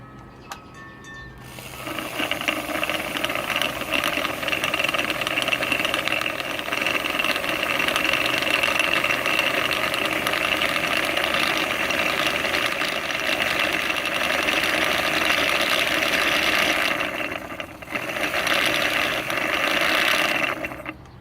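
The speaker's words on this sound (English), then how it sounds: "So I'm just going to snip that little tail of thread there so I can wind this bobbin." A Featherweight sewing machine winds a bobbin with a steady, loud mechanical whir and rattle that runs almost unbroken for about twenty seconds, dipping briefly near the end, with no talk.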